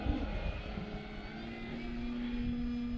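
An FMS Big Pitts V2 RC model biplane flies overhead, its electric motor giving a steady droning hum with a faint whine, distant and fairly even in loudness.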